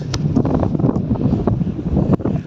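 Steady wind buffets the microphone outdoors in Cork, Ireland, producing a low rumbling roar with occasional gusty thumps throughout.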